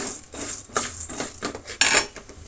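Spatula scraping and clinking against a pan while masala fries for a ladies' finger (okra) dish, a run of close, uneven metallic scrapes with one sharper clatter near the end, no voices.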